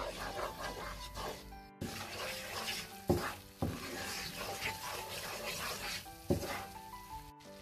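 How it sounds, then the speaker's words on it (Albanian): Flour fries in a pan while being stirred for a chicken lasagna: a quiet, even sizzle broken by spoon scrapes and a few sharp clanks against the pan. "Do vazhdojmë që ta fërgojmë miellin për 2-3 minuta"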